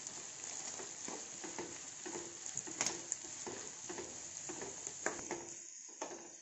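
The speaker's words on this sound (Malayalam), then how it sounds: "ഒരു അഞ്ച് പച്ചമുളക്, അഞ്ച് വെളുത്തുള്ളി, ഒരു ചെറിയ കഷ്ണം ഇഞ്ചി, ഇതെല്ലാം ചേർത്ത് നല്ലപോലെ വഴറ്റിയെടുക്കാം" Green chillies, garlic and a small piece of ginger sautéed in a pan for chicken ball curry, a soft, fairly quiet sizzle broken by regular light stirring taps and scrapes.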